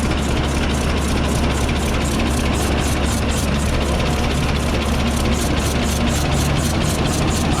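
Old John Deere A tractor engine that sat for three years, running with the throttle pulled back, a steady loud low chugging with a regular pulsing beat and knocking vibration throughout.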